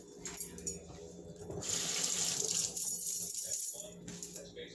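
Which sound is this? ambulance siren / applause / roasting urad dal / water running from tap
water running from tap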